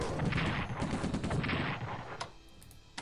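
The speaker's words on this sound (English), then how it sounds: "Yeah, there we go, defensive artillery." Rapid, dense barrage of defensive artillery and gunfire in the wartime strategy game Strategic Command WWII, a continuous loud roll of overlapping blasts that thins out near the end with a few isolated shots.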